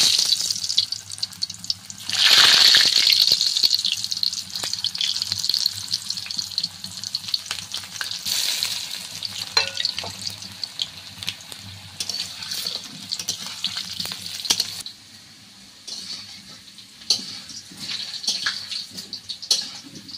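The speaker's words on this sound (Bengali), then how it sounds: "এবার আলুগুলো ভেজে নেব" Potatoes fry in hot oil in a wok, a loud burst of sizzling as they go in, then a steady bright crackle that continues alone with occasional clinks and stirring.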